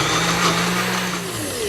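A KitchenAid Ultra Power blender runs continuously and loudly up close, its motor whirring steadily as it purées beans and onion until smooth.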